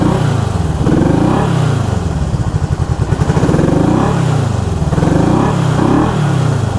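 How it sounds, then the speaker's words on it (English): A 1974 Honda CB360 motorcycle engine misfires on only one cylinder, running loud and close with a rough, uneven beat and repeated rising and falling revs. "It's only running on one cylinder, eh?"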